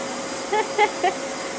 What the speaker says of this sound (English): Austin's helping Daddy vacuum.